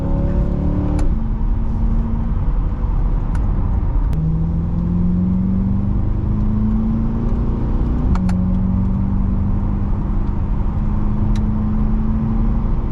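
A Chevrolet Corvette C8 passing through an underpass, its engine note rising and falling as it revs and downshifts, with several sharp blips between steady pulls, loud and close over continuous road roar, with no voices.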